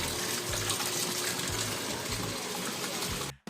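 Water gushes continuously into a Whirlpool automatic washing machine that keeps filling even when switched off, a loud, steady rushing stream heard close by that cuts off abruptly at the end.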